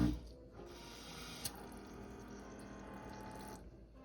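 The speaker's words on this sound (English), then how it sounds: "once you push this back, it's going to start draining and cleaning itself" Breville Bambino Plus espresso machine steam wand draining and self-cleaning after frothing milk: a steady hiss of rushing water and steam for about three seconds, with a brief sharp click partway through, then a quick tail-off.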